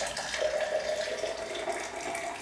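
Water runs steadily from a kitchen tap to measure out water for knead-free bread dough, a continuous close hiss and gurgle with a slight tonal ring, alone with no voices.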